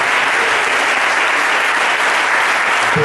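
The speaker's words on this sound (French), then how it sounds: "Donnons une bonne main d'acclamation à notre Dieu" Loud, dense applause from a church congregation during a worship service, steady sustained clapping throughout with no pause.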